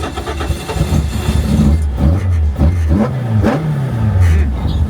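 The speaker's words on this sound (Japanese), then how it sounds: "キャブの音いいっすね" A Toyota AE86 with a high-compression TODA carbureted engine and high-lift cams fires up and revs repeatedly, its loud, close throaty engine rising and falling in several sharp bursts with a prominent intake roar.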